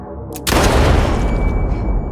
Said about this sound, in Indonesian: dia menoleh dan langsung menembakkan pistol ke kepalanya sendiri